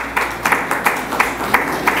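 Applause at a formal ceremony for a provincial interior minister, heard as a steady crowd wash with sharper clap bursts recurring about every third of a second, moderately loud and with no talking.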